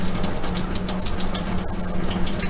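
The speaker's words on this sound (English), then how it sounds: "we're going to pour all the water through your sponge" Water full of clay runs through a sponge into a sink, a steady close splashing trickle with no pauses and no voices.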